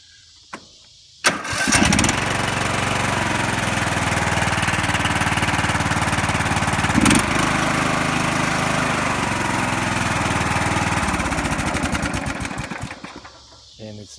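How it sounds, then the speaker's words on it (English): A Cub Cadet 1600 lawn tractor engine turns over and catches, then runs steadily at a loud, rough idle for about ten seconds before shutting down. "Let's see if we get started up a little bit."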